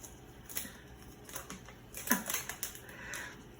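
Protective film is peeled off a new black Samsung Galaxy A20s phone, making a quiet run of crinkly ticks and crackles that sharpen into a brief louder burst midway, close up with no voices.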